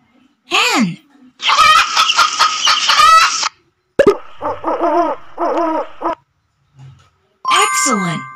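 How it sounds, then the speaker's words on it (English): A hen clucks in a run of quick, rhythmic calls between short bursts of excited voices and chimes from a children's animal-sound game. "Hen!"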